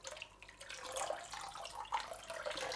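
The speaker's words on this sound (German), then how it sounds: "Und dann geben wir das jetzt einfach dem Wasser zu." Mineral solution is poured into aquarium water with a soft, steady splashing and trickling wash that swells in places, close and fairly quiet.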